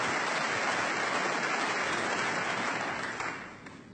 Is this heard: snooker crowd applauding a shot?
yes